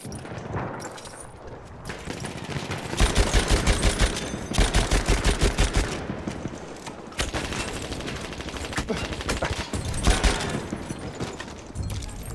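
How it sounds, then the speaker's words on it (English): Rapid bursts of fast-firing SMG gunfire in Battlefield 1 ring out close and loud, with dense automatic volleys around 3–5 seconds and again near 10 seconds amid constant battle noise. "Pure skill with a fast fire rate SMG."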